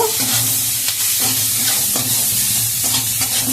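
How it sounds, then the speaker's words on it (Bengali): Spices with chili, turmeric and salt fry loudly in a pan for jute-leaf lentil dal, a close, continuous sizzle broken by repeated rhythmic scrapes of stirring. "একটু ভাজা ভাজা করে নেব।"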